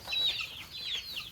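Local chickens in a budget backyard coop, a few high, squeaky clucks and calls in two or three short bursts, fairly faint and close, with no talk.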